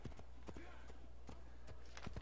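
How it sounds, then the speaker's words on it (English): Horse hooves clip-clop at a steady walking rhythm through a town in Assassin's Creed, fairly close and under constant game ambience, with a voice talking over the steps. "I'm gonna ride my horse in town."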